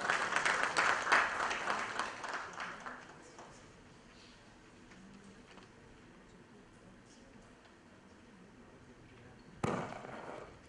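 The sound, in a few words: applause for the speaker at a summit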